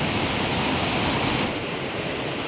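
A hillside stream runs down into a channel where crabs are caught, giving a steady, loud broadband rush of flowing water close by with no voices.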